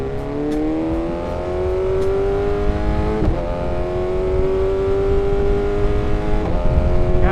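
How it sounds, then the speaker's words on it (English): A motorcycle engine hums steadily while riding, its pitch rising gently as it accelerates, close and loud over continuous wind and road noise. "God, listen to that freaking bike, man. It just sounds so good."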